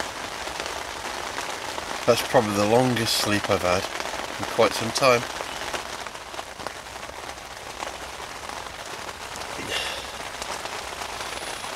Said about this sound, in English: Lying in your pit, listen to the rain.